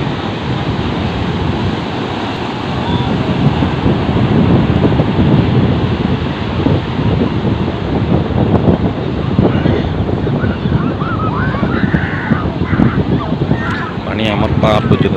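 Large sea waves breaking on Cox's Bazar beach in the morning, a continuous loud roar of surf mixed with heavy wind buffeting the microphone, with faint voices in the background.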